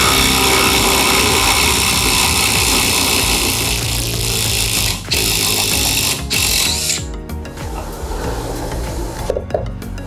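Dewalt DCF850 Atomic impact driver driving screws, a loud continuous whirring hammer-rattle close by, briefly pausing and resuming, then tapering into lighter clicks and handling noise.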